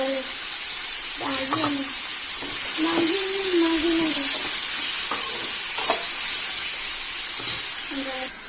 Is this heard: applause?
no